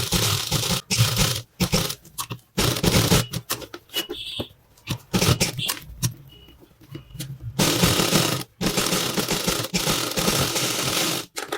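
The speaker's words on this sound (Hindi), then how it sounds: "इसके ऊपर ऊपर एक सिलाई और लगा लेंगे जिससे कि हमारी चेन इधर उधर नहीं भागे" A sewing machine stitches over a blouse zipper in loud, close bursts of rapid mechanical clatter, broken by short pauses and a quieter stretch in the middle.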